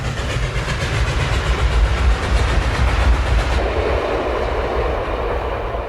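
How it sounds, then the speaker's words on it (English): An Illinois Central mountain-type steam locomotive hauls a freight train through Kankakee, Illinois, in the early 1950s, with a steady rolling rumble and rhythmic clickety-clack of wagons passing close by, heard alone without talk. "Here we see one of those mountain types as it hauls a freight through Kankakee, Illinois in the early 50s."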